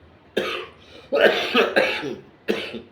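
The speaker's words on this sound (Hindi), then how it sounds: "थोड़ी खांसी आ रही है" Several harsh coughs close to the microphone, a single burst, then a run of three, then one more after a pause.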